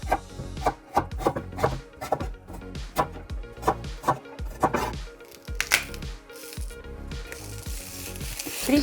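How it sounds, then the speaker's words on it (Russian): A knife chops carrots into cubes on a board for a chicken and rice soup, landing crisp, close strikes in a steady rhythm of roughly two per second with no voices. "Нарежем кубиками морковку"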